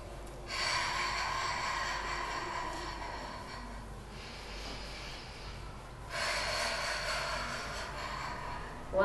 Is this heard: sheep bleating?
no